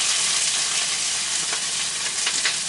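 Rice dropped into hot oil in a pan for shrimp fried rice gives a loud, close, dense sizzle with crackling hiss that holds steady throughout, no voices.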